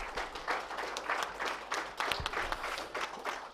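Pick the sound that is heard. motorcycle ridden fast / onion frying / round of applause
round of applause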